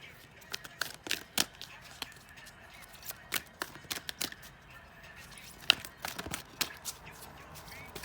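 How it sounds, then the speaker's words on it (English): Tarot cards being shuffled by hand, a series of quiet, sharp riffling and snapping bursts at irregular intervals, close and soft in a quiet room. "Okay, so I'm going to shuffle here."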